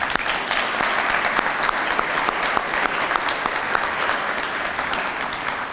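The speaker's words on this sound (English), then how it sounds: "Another round of applause for those that made this happen." Steady applause from an audience at a lecture-series event, a dense patter of clapping that holds throughout and tapers a little at the end, with no speech over it.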